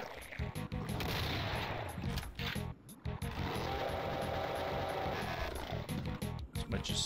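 A chaingunner enemy in ZDoom's Doom firing its chaingun during gameplay: rapid, continuous mechanical bursts of gunfire with brief breaks between them, loud and dense.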